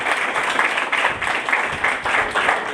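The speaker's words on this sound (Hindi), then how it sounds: "जोरदार तालियां बजाएं उस बाप के लिए।" A congregation at a Father's Day sermon applauds, a dense, steady wash of clapping that stays loud and even throughout.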